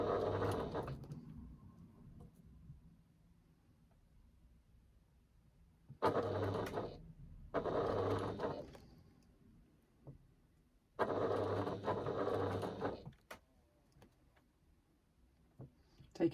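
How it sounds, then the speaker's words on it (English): A sewing machine stitching a fabric key keeper runs in three short bursts of rapid mechanical whirring, close by, with quiet pauses between them and someone talking softly. "I'm just going to do one back stitch at the beginning and the end to secure my threads."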